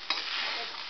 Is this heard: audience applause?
no